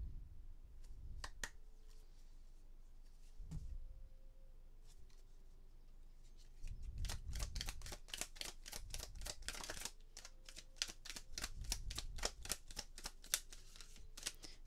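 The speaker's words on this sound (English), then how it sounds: "These are tricky because they're plastic, but I really like to shuffle and allow the card to come out." Plastic tarot cards being shuffled by hand, producing rapid crisp clicking and flicking bursts with brief pauses, close and fairly quiet, with no talking.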